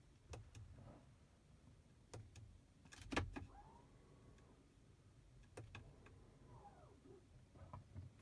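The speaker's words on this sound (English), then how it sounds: "I'll stop talking so you can hear the sound of the brakes going on and off." Electric parking brake on a Tesla Model 3 engaging and then releasing, two faint whirring motor sweeps a few seconds apart, each rising and settling, set among quiet cabin clicks with no talking.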